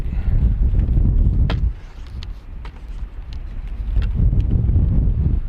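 Wind gusting hard over a hillside slope before a Volantex PhoenixS RC glider is flown, low rumbling buffets on the microphone that ease off briefly in the middle and then return strongly, with light clicks and handling noises underneath.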